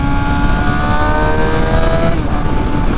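A high-revving super sport motorcycle engine, revving toward 15,000 rpm, holds a loud, steady whine with rising harmonic tones, easing back slightly near the end; no talking.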